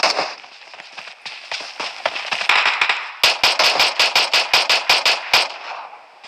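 Gunfire in the battle game PUBG: a loose run of sharp shots, then a fast, steady burst of about a dozen loud cracks in quick succession, close and dry with no talk over them.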